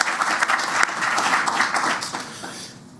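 An audience applauds the mayor at a bill-signing ceremony, with a dense burst of clapping that holds for a few seconds and then starts to fade.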